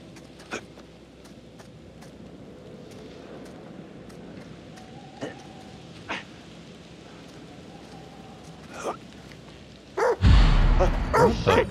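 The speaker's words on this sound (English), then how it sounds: "What the fuck, a dog?" A dog barking inside a video game, several short distant barks scattered over a steady rain-like ambient background, followed by a sudden loud noisy burst at the end.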